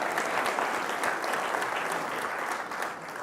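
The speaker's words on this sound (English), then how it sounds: "can you give a round of applause to yourselves" Steady applause from an audience at a Suffolk County candidate forum, a dense, even wash of clapping that holds for a few seconds and eases slightly at the end.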